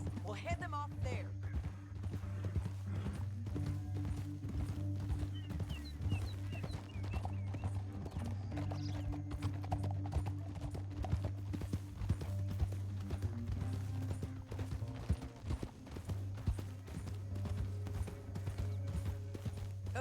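Horses' hooves clip-clop steadily through a canyon in the Red Dead Redemption 2 video game, a continuous rhythmic clatter over a low rumbling background, with a voice speaking over it.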